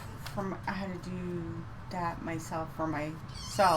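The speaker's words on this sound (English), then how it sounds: "now you hear him, the alley cat" An alley cat meows repeatedly up close, giving a series of drawn-out, wavering cries spaced a second or so apart. The calls rise to a louder, sharper yowl at the end.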